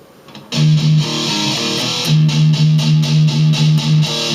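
A distorted electric guitar plays a riff: a sudden loud attack, then a quick run of repeated, chugging low notes in a tight rhythm, played alone.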